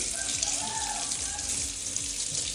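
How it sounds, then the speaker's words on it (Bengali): Tap water runs steadily into a sink as coriander and spinach leaves are rinsed beneath it, a continuous close splashing with faint rustling and a soft voice in the background. "এতগুলো পাতা পেয়েছি এবার ভালো করে ধুয়ে নিতে হবে"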